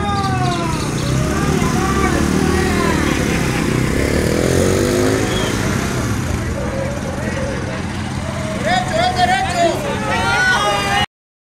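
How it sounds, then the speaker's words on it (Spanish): A white Suzuki motorcycle engine runs at a race, revving and droning near and loud beneath continuous talk, with other engines and crowd noise mixed in. "desde aquí les voy a presentar una moto Suzuki blanca"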